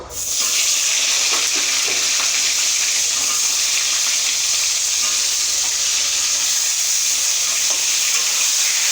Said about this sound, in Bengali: লাল লাল করে পটলটাকে ভেজে নেব।